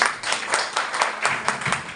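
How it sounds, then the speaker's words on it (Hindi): Brief burst of applause from a small group, with scattered claps over a couple of seconds and no talking. "इनके लिए तालियां बजा दीजिए।"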